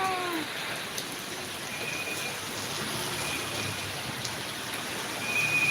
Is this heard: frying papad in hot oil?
no